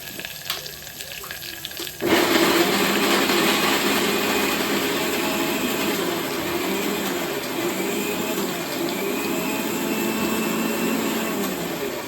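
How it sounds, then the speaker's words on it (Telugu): A mixer grinder grinding curry leaves, onion and green chillies starts abruptly and runs loudly and steadily, a dense whirring roar that continues without pause. "మిక్సీ వేసేసుకుంటాను."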